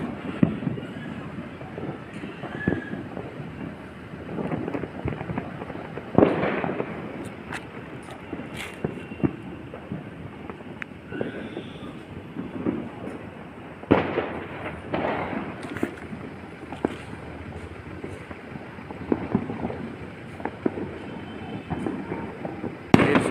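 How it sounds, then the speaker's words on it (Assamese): Diwali firecrackers bursting in the evening around decorated, lit-up buildings, sharp cracks and pops scattered near and far over a steady crackling background, with several louder bursts standing out. "ফটকাটা ফুটিছে চব"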